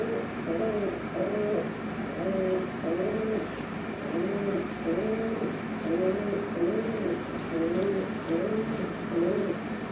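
Pet doves or pigeons coo repeatedly in a steady, rhythmic series of soft, close calls over a constant background hum, with no talking.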